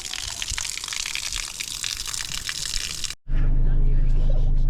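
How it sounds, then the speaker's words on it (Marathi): Water pours constantly from a cow-mouth spout at the Vimleshwar temple in Devgad, Konkan, a loud hissing splash that cuts out briefly before a deeper, nearer gush takes over. "तर या ठिकाणी एक गोमुख आहे आणि इथून पाणी पडतं कायम"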